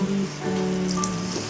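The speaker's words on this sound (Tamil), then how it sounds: "இப்போ நம்ம வந்து புளி தண்ணியை ஊற்றிக்கலாம்." Tamarind water pours into a cooking pot for a village-style stuffed brinjal kuzhambu, giving a steady splashing, trickling wash that stays close and fairly loud for about a second and a half.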